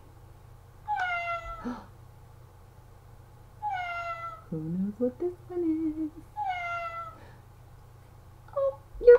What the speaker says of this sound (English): Oh, you're right. It's a cat.